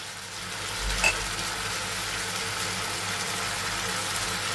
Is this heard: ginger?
yes